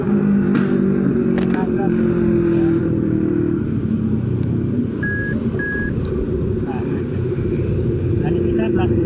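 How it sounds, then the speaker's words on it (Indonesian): Loud Kawasaki Ninja motorcycle exhaust rumbling steadily throughout, with engine drone and traffic-like noise, while people talk over it. "Tuh motor Ninja tuh berisik."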